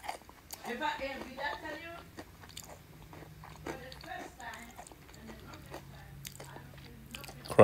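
Someone bites into and chews crunchy chicken from Nala, close crisp crunches in a loose rhythm, with quiet talking now and then.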